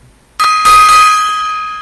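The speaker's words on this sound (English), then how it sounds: "Bit of a gong solo there" A gong is struck twice in quick succession after a near-silent start, ringing loud and close with a bright metallic tone that slowly decays, with no talking.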